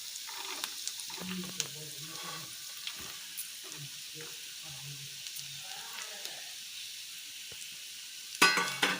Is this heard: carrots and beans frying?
yes